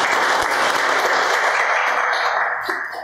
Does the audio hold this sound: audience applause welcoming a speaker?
yes